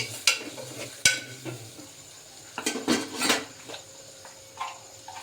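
A metal spoon scrapes and clinks against a pan while chopped tomatoes and spices are stirred, giving a few sharp knocks and scraping passes at an uneven rhythm, close and fairly quiet.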